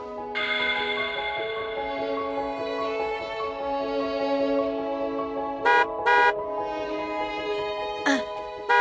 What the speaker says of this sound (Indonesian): itu ada klakson mobil